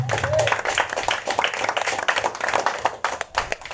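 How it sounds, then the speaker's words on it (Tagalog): A church congregation at a preaching service claps and applauds for the Lord, dense steady clapping throughout with voices mixed in, moderately loud and close. "Wala ba kayong palakpak sa Panginoon?"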